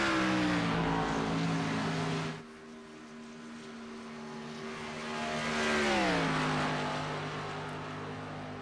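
Xfinity Series race cars roar past in a racing video game. One engine's sustained whine cuts off, then another car approaches loudly and its pitch drops sharply as it passes, fading off afterward. No one speaks.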